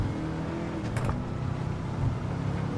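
A powerful car engine drones and revs steadily in a racing video game, a loud continuous low hum with a brief whir partway through and no talk.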